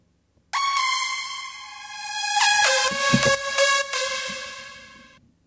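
A reversed synth note from a progressive house track, a bright harmonic tone that swells gradually louder over about five seconds with a few shifting accents, then cuts off abruptly, playing alone.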